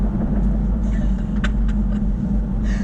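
A Jaguar F-Type R engine held lightly at low revs in second gear, then eased off: a deep, steady rumble under a quiet voice, with a few faint pops toward the end.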